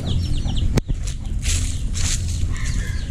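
Native chickens clucking close by against a busy outdoor backdrop, with a sharp click partway through and steady low rumble underneath.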